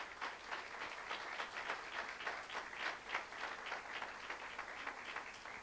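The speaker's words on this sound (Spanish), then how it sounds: "Den un aplauso al Señor." A church congregation claps during a worship service, a quiet, steady wash of many hands applauding together from a distance, with no talking over it.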